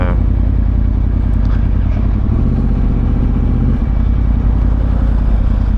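Moped riding past in London traffic, its mid-pitched engine buzz blending into a loud, constant motorcycle engine and wind roar throughout, with some clattering and possible faint talk.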